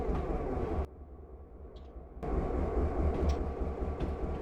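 A train in Train Simulator 2020 on the NS N-Line gives a steady low rumble and rolling hum. The sound drops out briefly and then returns at full strength, with no one talking.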